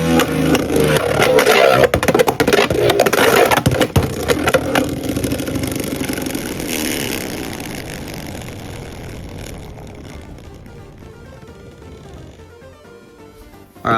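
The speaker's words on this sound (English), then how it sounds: "Let's do a test spin with Bahamut Blitz" A Bahamut Blitz Beyblade spins in a stadium with a loud, steady whirring rattle that slowly fades over about fourteen seconds as it loses speed.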